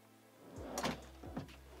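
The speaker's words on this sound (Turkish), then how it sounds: "Çekmecelerimiz." A kitchen drawer in a Mercedes Sprinter extra-long caravan slides open with two quick, close runner clacks in a quiet interior, with no speech.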